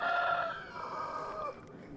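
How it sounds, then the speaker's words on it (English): A rooster crows nearby, a drawn-out call that trails off, over faint background noise. "This darn rooster, he won't shut up"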